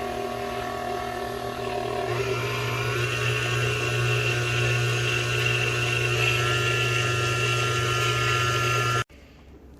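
A food processor whirs steadily as it mixes banana chocolate chip muffin batter, a loud constant motor whine with a faint ratcheting texture, cutting off abruptly near the end.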